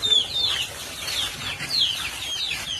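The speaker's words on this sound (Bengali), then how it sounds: "মোরগও আছে ডেকেও আছে।" Chickens and roosters at a poultry seller's stall, with scattered high chirps and clucks, a possible bit of wing flapping, and busy background noise close by; no talk.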